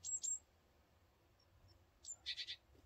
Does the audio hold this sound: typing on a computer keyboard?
no